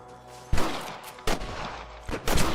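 Three heavy rifle shots from snipers in the Red Dead Redemption video game ring out loud and close at spaced intervals, each followed by a rolling echo.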